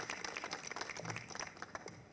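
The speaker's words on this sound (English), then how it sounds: "let's give her a hand clap here." An audience at an announcement event in Lynchburg claps for a speaker, a brief and faint patter of scattered hand claps lasting about two seconds with no talk over it.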